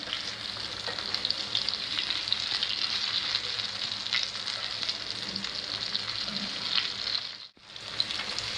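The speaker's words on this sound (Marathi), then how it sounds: "मच्छी फ्राय केली आहे आपण पलटी मारून घेऊया व्यवस्थित" Halwa fish fries in hot oil in a pan, cooked Malvani style, with a steady close sizzle all the way through and a short dip near the end as the pieces are flipped.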